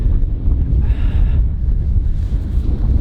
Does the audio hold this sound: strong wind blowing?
yes